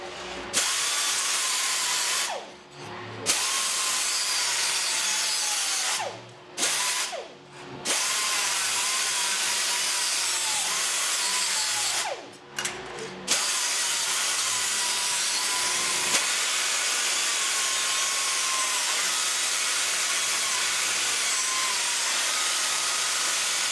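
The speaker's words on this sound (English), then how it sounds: "So now I'm going to sand the flower petals." Wooden flower petals are sanded with a power tool, a steady close rasping whir that stops briefly several times before starting again, with no talking.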